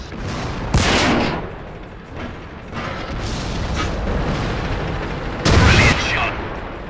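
Tank cannons fire in World of Tanks, two loud booming shots a few seconds apart with rumbling battle noise between them and a voice talking.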